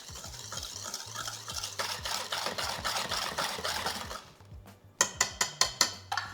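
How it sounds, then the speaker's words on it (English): Whisk or spoon stirring egg and egg yolk into carrot cake batter in a bowl, a steady scraping, clicking rhythm close by, then a pause and a run of sharper taps against the bowl at the end. "now we're gonna add our egg and our egg yolk in. Okay, mix that together."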